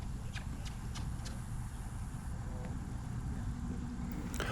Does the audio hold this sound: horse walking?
yes